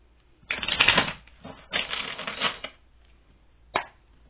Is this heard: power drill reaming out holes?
no